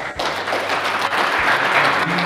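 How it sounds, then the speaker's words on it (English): Audience applause at a fireside chat, a short burst of steady clapping from a crowd, fairly loud and continuous, with no talking over it. "I think it deserves a clap"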